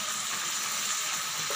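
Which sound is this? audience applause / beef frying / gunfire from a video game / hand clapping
beef frying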